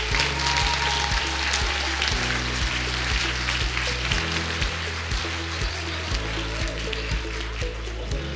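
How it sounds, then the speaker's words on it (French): An audience applauding graduates of a master's programme in marketing at a diploma ceremony, steady dense clapping under a loud, thumping background music beat. "On les applaudit bien fort."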